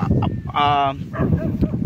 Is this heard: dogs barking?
yes